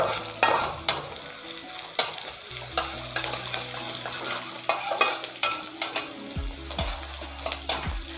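Onions fry in a pan over a raised gas flame with a steady sizzle, punctuated by repeated scraping stirs and occasional clinks of a utensil against the pan, close and moderately loud, with no talking.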